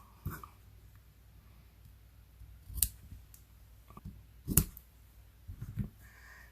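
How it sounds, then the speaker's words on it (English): Scissors snip ribbon for a flowering tulips Mother's Day card in a few sharp, close cuts spaced apart over a quiet background. "And then I'm going to just snip the ribbon."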